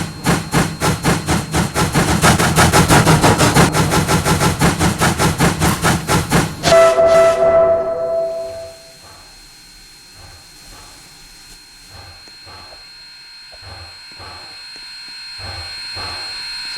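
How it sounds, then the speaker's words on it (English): Wood-burning geared 0-4-0T steam locomotive in a video game, rapid rhythmic chuffing that builds loud, then a whistle blast and hissing steam before it fades to quieter, slower mechanical clanks. "This is a burning wood locomotive. So yeah, that's a wood burning locomotive actually."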